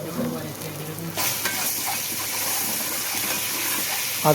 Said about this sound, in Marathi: कांद्यामध्ये आपण चार पाच पान टाकले कडीपत्त्याची ते व्यवस्थित पण मिक्स करून घ्यायचे